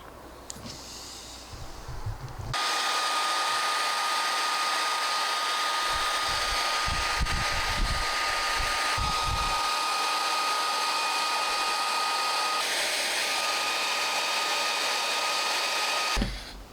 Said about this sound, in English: I'm gonna get our cheap hairdryer here, and I'm just gonna blow on this